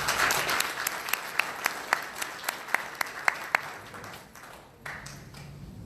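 A small audience at a community symposium applauds, with a few sharp distinct claps standing out over the soft patter, which fades toward the end.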